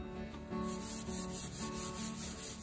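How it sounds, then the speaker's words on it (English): Folded paper rubs over wet paint on a painted mountain scene, a close, soft scratchy swishing repeated in rhythmic strokes roughly every half second. "And rub where I painted."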